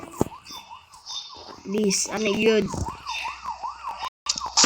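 A police siren wails in repeated rising and falling sweeps, fairly close, as people talk over it.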